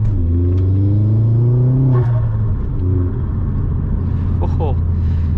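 A Vauxhall Astra VXR turbo hatchback drives at night, its engine droning loud and steady from inside the cabin, pitch rising under acceleration, dropping at a shift, then climbing again.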